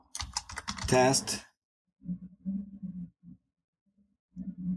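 Someone types a username and password on a Windows computer keyboard in a few short bursts of clicking keystrokes, close and fairly quiet, after a brief spoken word.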